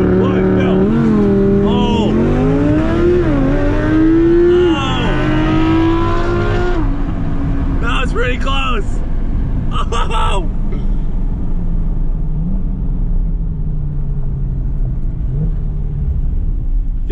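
A 900-horsepower NASCAR truck on drag slicks launches hard, its loud engine revving up through quick gear changes before easing into a fading rumble. Short bursts of other noise cut in partway through.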